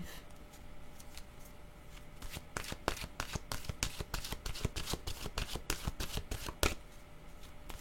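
A deck of oracle cards is shuffled by hand, a close, rapid run of crisp riffling flicks and soft slaps that builds over several seconds, with faint room noise beneath.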